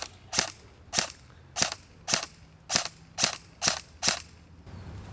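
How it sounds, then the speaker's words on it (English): Crytac LVOA airsoft rifle test-fired outdoors at a tree, eight crisp, evenly spaced snapping shots about half a second apart, close and moderately loud over a quiet background. "We're back outside test firing the Crytac LVOA, and we're just going to test fire it on this tree."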